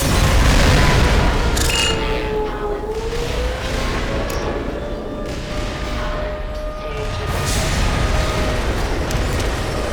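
Mortar explosions in the game Black Mesa, heard as a loud continuous rumble of booms and blasts that persists throughout with no clear gaps.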